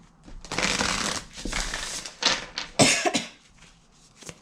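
Spell casting oracle cards shuffled by hand in a series of loud riffling bursts, with a few sharper snaps near the end and no talking.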